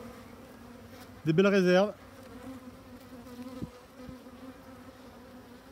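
Honeybees from an opened spring hive colony founded in 2021 rise in a brief, loud buzzing burst lasting under a second, close to the ear, followed by quieter background activity with a couple of faint knocks.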